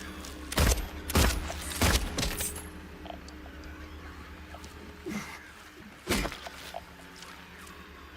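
Gunshots in Silent Hill 2 ring out as a burst of three close, sharp cracks in quick succession, then two more isolated shots after a pause, over a low droning ambience.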